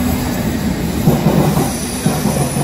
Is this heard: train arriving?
yes